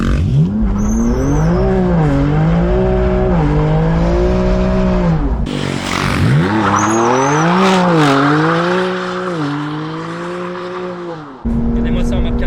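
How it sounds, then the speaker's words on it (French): A tuned BMW M2 Competition, stage 3+ at 720 hp, revs hard through a burnout with a loud, rising and falling engine note and tyre squeal, run continuously at close range before cutting off near the end. "il m'a demandé de lui faire un petit burn, c'est parti."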